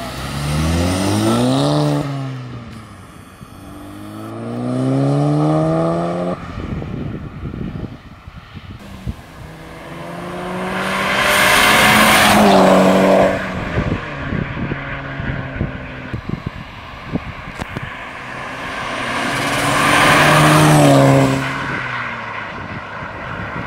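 A fast Volkswagen Golf roars past several times, each loud engine whine rising as it nears and dropping away as it leaves, with quieter stretches between passes.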